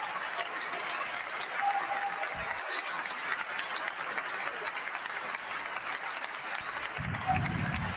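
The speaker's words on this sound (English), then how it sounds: "You hear them people clapping in the back." A crowd claps in the background of a played Trump speech recording, a steady, fairly distant patter of applause that continues throughout.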